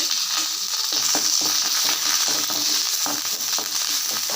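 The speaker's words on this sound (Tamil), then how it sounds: "இருக்கிற எண்ணெயிலே கருவேப்பிலை நல்ல எண்ணெயில் பொரிச்சிருங்க" Curry leaves crackle and sizzle in hot sesame oil in a pan for idli podi, a steady dense frying hiss with small pops and the scrape of stirring, close and continuous.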